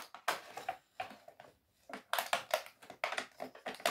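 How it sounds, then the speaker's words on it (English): Plastic packaging of a Polly Pocket toy set is being unwrapped up close, with bursts of crinkling, tearing and snapping separated by short pauses. "it's super fun at the end, but it's so much time to just unwrap it"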